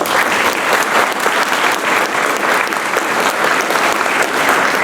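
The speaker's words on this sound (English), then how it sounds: "You may applause." An audience at a college commencement ceremony applauds, a loud, dense wash of many hands clapping continuously from start to finish, with a faint crowd murmur beneath.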